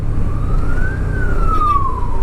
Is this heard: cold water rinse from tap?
no